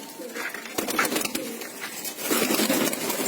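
Pigeons for sale in Hamza, Babil coo softly nearby in a short, soft burst of low burbling calls against faint background noise.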